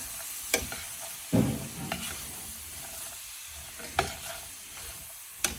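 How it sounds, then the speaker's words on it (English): Bourbon glaze with spices sizzles softly in a pan while a utensil stirs it, with a few sharp scraping clicks over a steady low frying hiss. "now you're going to lower the heat, stir this around."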